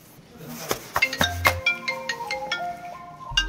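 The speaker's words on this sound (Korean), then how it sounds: "아, 또 왜 전화 와," A mobile phone ringtone for an incoming call plays as a short melodic tune of bright, evenly spaced tones, fairly close and clear, with a soft thump or two but no speech over it.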